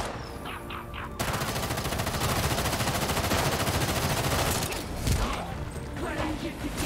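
Sustained automatic gunfire in Gotham Knights, a dense continuous stream of shots that starts after a second of quieter game sound and keeps going loud and near, with a few sharper impacts toward the end.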